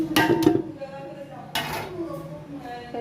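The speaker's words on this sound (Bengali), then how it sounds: "কাঁচা খুঁটি দিয়ে নেড়ে নিচ্ছি তো এখানে আমি রাইসটা মিশিয়ে দিচ্ছি" A spoon scrapes and clinks against a pot as rice is mixed into chicken biryani: two quick metallic knocks, a pause, then another scraping stir, all close and fairly loud.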